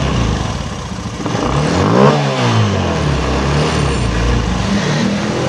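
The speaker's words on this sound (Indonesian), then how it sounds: "Enaknya motor Beat Street, nggak pakai CVT motor bisa nyala" A Honda Beat Street scooter engine runs with its CVT removed, a steady close idle that swells briefly into a rev and then settles back to an even hum.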